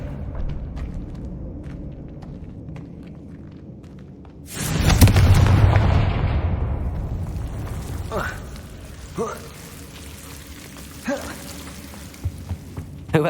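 An explosive Confringo spell blast in the video game Hogwarts Legacy: a sudden loud, deep boom erupts midway and rumbles for a couple of seconds over quiet game ambience, followed by a few smaller thuds.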